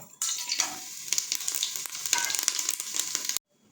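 Whole spices mixed with poppy seeds hit hot oil for a tempering of black pepper, cinnamon and cloves, giving a loud, steady sizzle and crackle that holds for about three seconds before cutting off abruptly.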